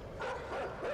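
Dogs in the video game Inside bark in a quick run of close, moderately loud woofs lasting about a second.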